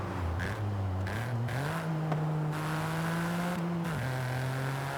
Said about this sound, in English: Proper manual gear changes. It takes a second to change gear